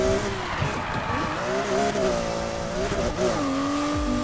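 A sports car races in Need for Speed, its revving engine whining with shifting pitch alongside squealing tires, loud and continuous, with little talk.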